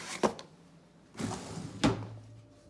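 Kitchen drawers handled while fetching milk filters for goat milking, giving three separate wooden thunks and slides spaced about a second apart, close and moderately loud in a quiet room.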